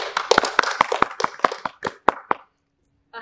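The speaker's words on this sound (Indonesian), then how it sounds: "tepuk tangan dulu dong" A few people clap in short, uneven bursts during a relaxed student talk show about organisation activists, about a dozen sharp, close claps that taper off and leave near silence at the end.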